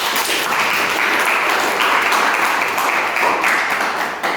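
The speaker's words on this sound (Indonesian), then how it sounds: "Tepuk tangan untuk kalian." Classroom applause during a teaching session, a steady burst of clapping from a group of students lasting several seconds, close and fairly loud with no talk over it.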